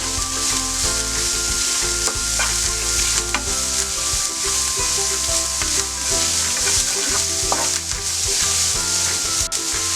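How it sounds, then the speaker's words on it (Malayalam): Chopped onions fry and sizzle steadily in a pan while being stirred, with a continuous loud hiss broken by frequent scraping and clinking of the utensil against the pan, no voices, while making honey glazed chicken. "ഇനി ഇത് ചെറുതായിട്ട് നമുക്ക് മിക്സാക്കി കൊടുക്കാം"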